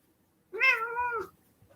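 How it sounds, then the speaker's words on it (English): A pet cat gives a single clear, drawn-out meow up close, with quiet surroundings before and after. "Look at the kitty."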